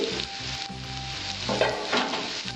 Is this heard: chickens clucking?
no